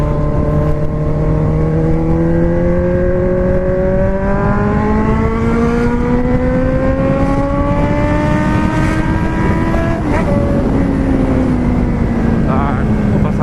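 A four-cylinder car engine revs steadily for the whole stretch, its pitch climbing slowly, then dipping briefly and settling near the end. It stays loud and close throughout, with the speech-like tonal quality of a continuous engine drone.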